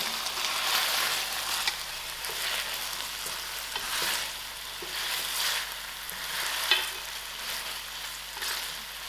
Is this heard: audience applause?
no